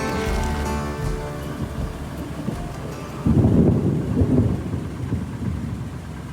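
Thunder from a fast-approaching storm rumbles low and heavy outdoors, swelling midway into a louder roll under steady wind buffeting the microphone, with no one speaking.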